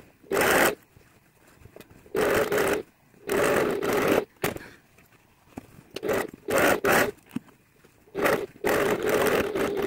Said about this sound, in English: now we'll take that to the machine and stitch all the way down there and all the way down there